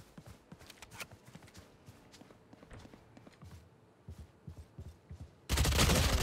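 Video game shooter gunfire: scattered light shots and footstep-like clicks, then a loud sustained blast of fire bursting in near the end.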